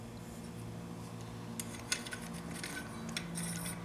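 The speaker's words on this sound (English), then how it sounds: "Now we're going to go ahead and start installing our plates." Metal and fiber Hinson Billetproof clutch plates clink and tick faintly as they are handled and stacked during installation, a few light metallic taps over a steady low hum.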